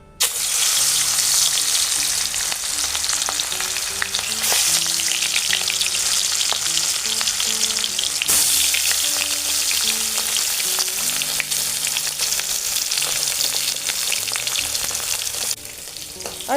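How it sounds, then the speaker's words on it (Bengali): Katla fish pieces frying in hot oil in a wok give a loud, steady sizzle and crackle that runs unbroken throughout, with no voices over it. "কড়াইটা গরম হয়ে গেছে, এবার মাছগুলো দিয়ে ভেজে নেব।"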